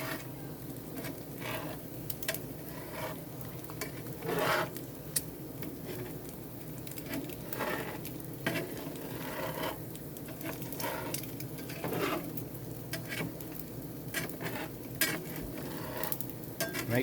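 Gravy is stirred in a pan in a steady rhythm of soft scraping strokes over a faint background sizzle, with no talking over it.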